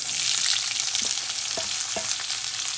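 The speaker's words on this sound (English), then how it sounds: "Now you add the onions" Onions sizzling steadily in a hot pan of oil for masala potatoes, a dense close hiss with a few soft pops and light stirring knocks, no voices.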